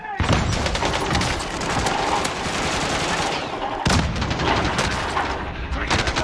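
In Warzone Resurgence, dense rapid gunfire crackles close and loud with a sharp grenade blast partway through, a continuous barrage of shots with voices talking over it.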